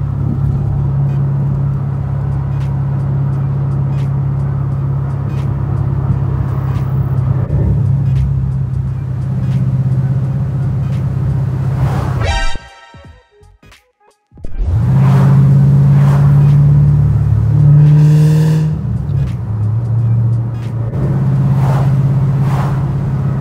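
Loud, close engine drone from a 2009 Ford Shelby GT500 on the road, cut by a sharp gap of near silence at a shift, then rising hard again as the car pulls.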